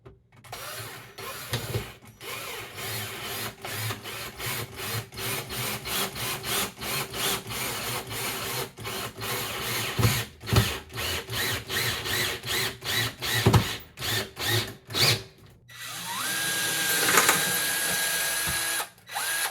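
A screw gun drives oversized 3-inch screws into kitchen baseboard, one of them hitting a staple, heard up close as repeated whirring bursts with brief gaps and clicks, ending in a longer higher-pitched spin.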